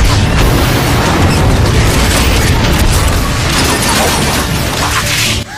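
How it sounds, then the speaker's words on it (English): Booming energy blast from a Singularity Bomb in the Transformers game Fall of Cybertron, a loud, dense roar of crashing and rumbling that fills the whole stretch before cutting off abruptly at the end. "Suffer the wrath of the Singularity Bomb!"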